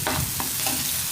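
Shrimp bhaji frying in a pan, with a utensil scraping and stirring through the food in a few quick strokes over a constant oil sizzle, close and brief.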